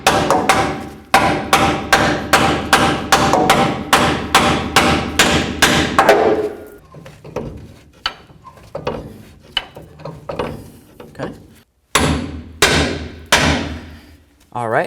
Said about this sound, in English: we'll give it a couple loving bonks with our hammer just to try to break it free